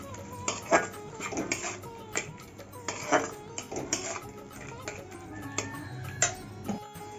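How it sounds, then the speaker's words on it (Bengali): Pieces of rohu fish are stirred with salt in a pan on a kitchen stove, giving irregular metallic clinks and scrapes of a utensil against the pan, with a few sharper knocks, all close by and without talk. "এখন আমি পরিমাণ মতো নুন দিয়ে দিচ্ছি ভালো করে নাড়িয়ে নিচ্ছি"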